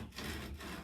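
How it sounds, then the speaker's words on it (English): A flat saw cuts through a wooden peg on a wooden mug rack, giving a short, quiet burst of back-and-forth rasping strokes at close range with no talking. "And just saw off the peg."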